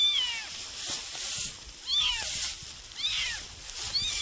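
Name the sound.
stray kitten meowing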